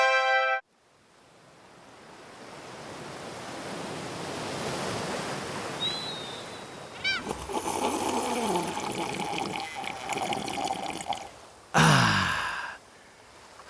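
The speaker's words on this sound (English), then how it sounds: "The sound of the waves, the sand between my toes, a slight breeze in the air." Ocean waves wash onto a beach in a steady, rising and falling roar, joined partway by louder crackling surf and a brief whistling tone, with no talk.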